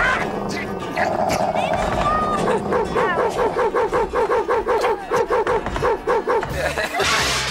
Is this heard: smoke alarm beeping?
no